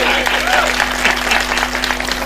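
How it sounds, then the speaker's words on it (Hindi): Audience applause at a Hindi kavi sammelan poetry recital, a dense steady clapping from a crowd that fills the short moment at an even, moderately loud level with no clear break. "तालियां कमजोर हैं"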